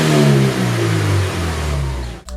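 A Toyota GT86/Scion FR-S engine revs through a Perrin 3-inch resonated catback exhaust, a loud, deep, droning roar that rises and falls as the revs change, recorded close with no talk.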